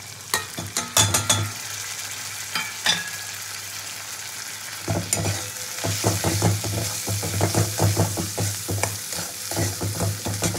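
Ginger garlic paste with cumin and chilli powder frying in ghee, a constant close sizzle with repeated spoon scrapes and knocks against the pan as the spices are stirred, growing busier in the second half.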